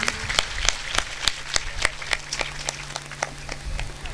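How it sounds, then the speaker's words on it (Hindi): Crowd clapping loudly at a religious katha gathering in Shikohabad, a steady wash of many hands applauding for roughly four seconds, fairly close and even in level. "एक बार जोरदार तालियां बजा दीजिए।"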